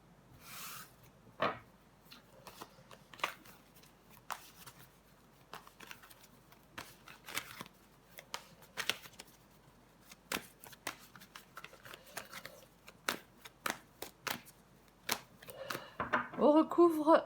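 Tarot cards are shuffled and laid out on a table in crisp riffles and soft slaps, spaced irregularly, then busier toward the end, with a voice talking in French at points.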